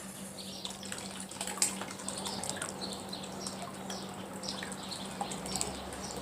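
Boiled water and dye liquid pour into a container, a steady splashing trickle with small drips and a faint hum underneath.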